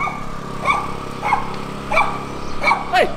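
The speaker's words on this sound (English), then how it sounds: "And this is our dog from the hostel." A hostel dog in Nepal barks five times at a steady, evenly spaced pace, close and loud over a constant low background hum.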